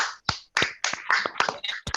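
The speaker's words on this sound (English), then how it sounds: "let's give a round of applause to TM Joy Cheyenne" Applause from a small Toastmasters meeting audience for a speaker, sparse individual claps in uneven bursts, fairly close and without talk.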